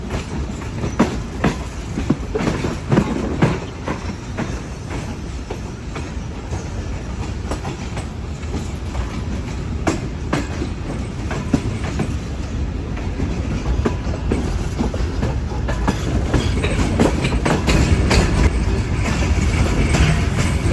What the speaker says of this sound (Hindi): ये ट्रेन कराची के एंड से जो है कोटली पहुंच रही है